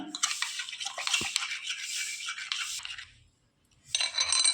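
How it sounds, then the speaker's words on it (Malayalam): Rapid, scraping whisking against a glass bowl, loud and close, stopping for about a second before a second burst of beating. "ഒരു ചില്ല് ബൗളിലേക്ക് മാറ്റിട്ടോ ഇത് നന്നായിട്ട് നമുക്കൊന്ന് ബീറ്റ് ചെയ്തെടുക്കാം"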